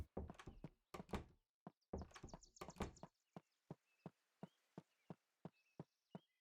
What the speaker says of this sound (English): door noises.